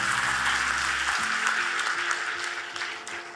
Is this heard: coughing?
no